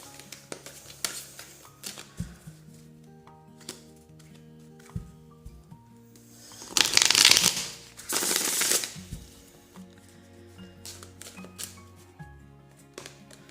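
Tarot cards shuffled by hand in a rapid rustling burst, with a second shuffle following soon after, set among quieter taps and handling noises and a steady low hum.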